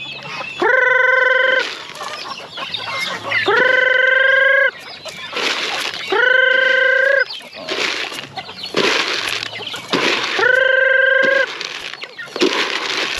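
Free-range chickens and a rooster on a farm: the rooster crows loudly and repeatedly, about five calls at regular intervals, with hens clucking steadily in between.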